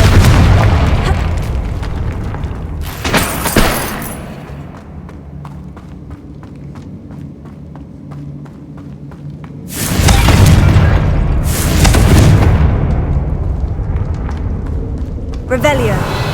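A Confringo fire spell in Hogwarts Legacy lets off loud booming blasts: one short burst early, then two heavy explosions close together and another rising blast at the end, with rumbling game ambience in between.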